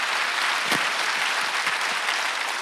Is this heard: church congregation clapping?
yes